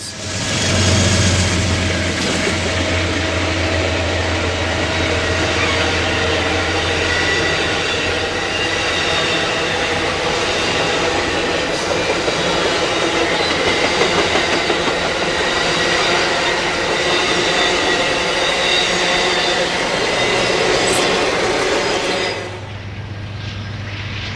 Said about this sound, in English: the Starlight rolls out of town and heads for the Cuesta Grade over the coastal mountains